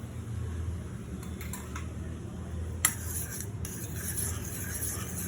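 Aloe vera hair oil being mixed with vitamin E, soft clinks and scrapes of a spoon against a container over a low fan-like hum, quiet and close with no voices.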